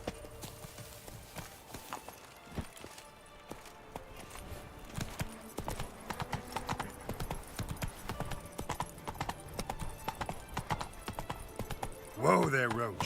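Roach, a horse in The Witcher 3 game, gallops with steady clip-clop hoofbeats throughout, close and continuous, ending in a short neigh or whinny.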